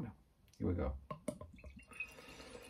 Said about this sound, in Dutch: We schenken hem lekker in.